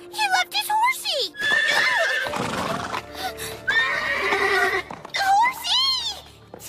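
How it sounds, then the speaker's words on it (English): A horse in an anime neighs and whinnies several times in high, wavering calls, with voices heard around them. "He left his horsey!"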